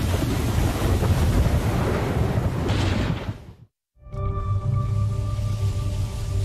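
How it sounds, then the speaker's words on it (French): Rough, heavy sea surf churns steadily in the Bermuda Triangle with wind buffeting the microphone, then cuts to near silence before the loud, continuous waves return with a faint tonal hum beneath. "une mer très instable et agitée avec des vagues scélérates"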